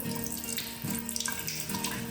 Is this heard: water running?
yes